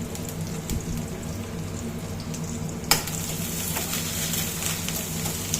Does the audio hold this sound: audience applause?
no